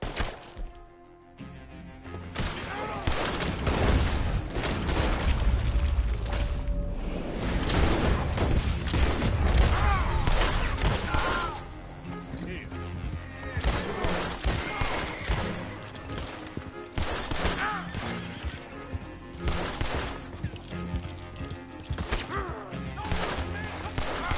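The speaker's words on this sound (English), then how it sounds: "Six shots. I count 2 guns." Gunfire in the Red Dead Redemption 2 video game: a rapid series of sharp shots and heavy impacts, loud and dense in the first half, then sparser cracks mixed with other game sounds.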